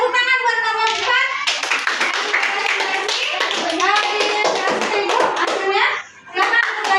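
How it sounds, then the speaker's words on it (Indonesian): Children clapping in a classroom during an Islamic studies lesson, applauding a student group after its presentation. The clapping is mixed with young voices calling and singing over it, with a short pause before it resumes. "Tepuk tangan buat kelompok 4."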